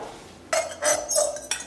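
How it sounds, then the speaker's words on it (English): Dry spices such as mango powder, black pepper, salt and parsley flakes stirred in a mixing bowl, giving a few short, close scraping and clinking strokes of a utensil against the bowl after a brief quiet start. "Mix the spices"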